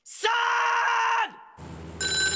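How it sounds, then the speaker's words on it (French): A telephone rings in the Sam & Max adventure game, a loud electronic tone held for about a second, then a quieter pause and a second bright ringing tone starting, with no speech. "Le téléphone va sonner."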